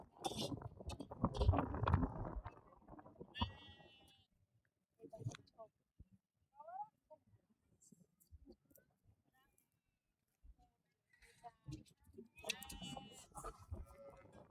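A flock of sheep at a farm bleats in scattered, overlapping calls, some near and some farther off, with people talking at times between them.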